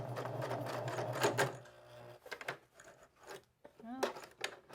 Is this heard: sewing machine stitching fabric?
yes